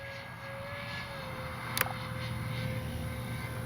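An E-flite Airbus A320neo RC model jet flies past as a steady, moderately loud whine with a sustained high tone, fairly distant and without talk.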